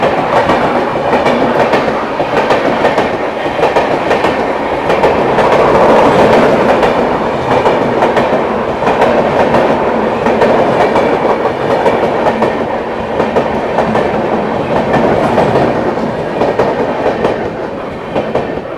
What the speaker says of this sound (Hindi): ये गई दोस्तों हम सफ़र एक्सप्रेस